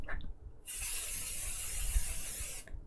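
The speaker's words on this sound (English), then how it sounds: "Let's spray the table." A spray bottle mists water over a sand art table, giving a continuous close hiss of about two seconds that starts and stops abruptly, with faint clicks before and after.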